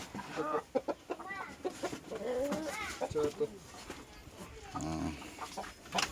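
Laying hens cluck and squawk nearby in a Philippine backyard flock, giving a busy, uneven chorus of short calls with someone talking intermittently over them.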